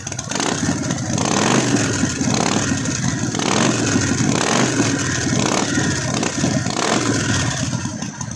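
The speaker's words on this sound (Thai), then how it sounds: "เรามาฟัง เสียง เร่งเครื่องดูนิดนึงนะครับ" A 2019 Harley-Davidson 48 motorcycle engine revs repeatedly up close, throttle blips rising and falling in a loose rhythm every second or two, loud and raspy throughout.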